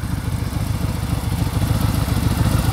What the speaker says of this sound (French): ici on est en fait sur une Harley Road Glide, le tout nouveau modèle